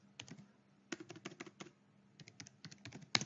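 Typing on a computer keyboard while filling in a spreadsheet: quick, close clicking keystrokes in two short bursts separated by a brief pause, with no talking.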